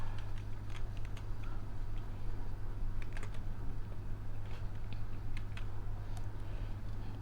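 Keys clatter steadily as a line of C code is typed on a computer keyboard, quick irregular clicks close by over a constant low electrical hum, with no voices.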